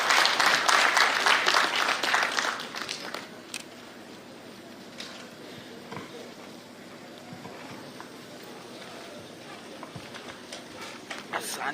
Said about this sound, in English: Engineer Mfune, let's give him a big round of applause.